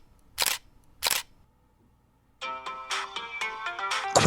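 Camera taking a photo with flash: two sharp shutter clicks spaced about half a second apart, then a bright beeping electronic tone sequence rising in loudness, close by with no talking.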